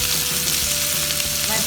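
Sliced onion sautés over a high flame for Indo-Chinese dragon chicken, giving a steady, close crackling sizzle with faint stirring scrapes and no speech.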